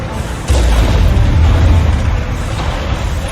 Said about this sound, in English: There's a lot of rockets coming at you.